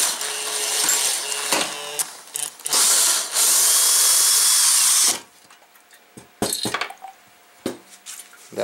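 Power tool or driver whirring in bursts while backing a check valve out of a Coleman product, loud and close, with metallic clinks between runs and quieter gaps toward the end.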